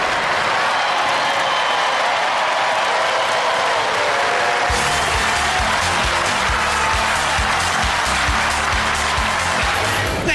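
A studio audience at a robot combat grand final breaks into applause and cheering over loud music; the clapping swells midway into a dense, rhythmic ovation that carries to the end.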